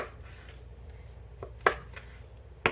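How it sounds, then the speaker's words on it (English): A knife roughly chops Roma tomatoes on a board, with a few soft cuts and then two sharp, loud chops spaced apart, close up with no talk. "rough chopping tomatoes, nothing fancy"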